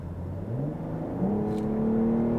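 A BMW M440i Gran Coupé engine in sport mode revs up steadily from inside the cabin, its pitch climbing in two smooth steps as the car accelerates, loud and continuous with no talking.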